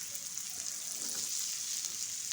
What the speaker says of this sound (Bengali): জাস্ট পেঁয়াজটাকে দিয়ে অনবরত নেড়ে চেড়ে গোল্ডেন আকারে ভেজে নিতে হবে।